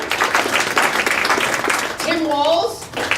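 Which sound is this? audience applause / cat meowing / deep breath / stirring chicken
audience applause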